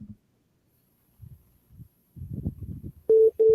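Phone call ringing in on a radio talk show: two loud steady ring tones in quick succession close the clip, after faint and then busier mumbling talk in the room.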